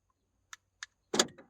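A 2010 Toyota Yaris locks by key fob: two quick faint clicks from the fob button, followed by a louder clunk of the door locks engaging, close and isolated.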